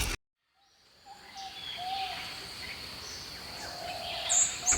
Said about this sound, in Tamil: தூரத்துலேருந்து பறவைகள் நிறைய பறவைகள் ஒன்று சேர்ந்து வர மாதிரி சத்தம் கேட்குது